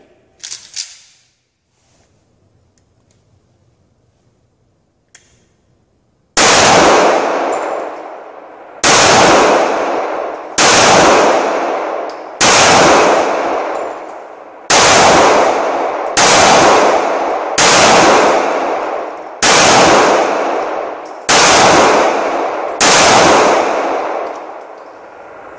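A Taurus PT111 pistol fires about ten sharp, loud shots at a steady, unhurried pace, each crack ringing out briefly. Before the first shot comes a short metallic click and then a few seconds of near silence.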